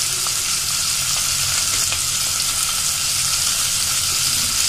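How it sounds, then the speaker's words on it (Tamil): Onion, green chili and garlic sauté in a hot pan, giving a steady, dense sizzle throughout with faint occasional stirring clicks, close and fairly loud, with no talking. "வெங்காயம் நல்லா வதங்கட்டும்"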